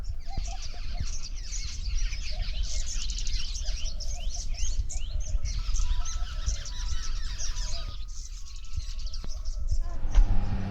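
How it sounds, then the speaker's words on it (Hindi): Many small birds chirp and tweet continuously outdoors, a dense, lively chorus with a few goose-like honks in the background. "ये देखो भाई कितनी चिड़िया वगैरह उड़ रही है, शानदार आवाज़ें सुनो।"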